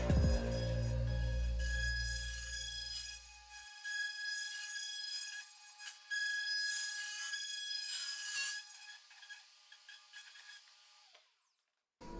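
Pneumatic Roloc sander working the inside of a wooden snack bowl, a steady high whine with a rough grinding layer that dips and surges as pressure shifts, then spins down to silence near the end.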